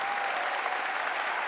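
A concert audience at the Juno Songwriters' Circle claps in steady, dense applause, a continuous wash of hands with no break over the whole stretch.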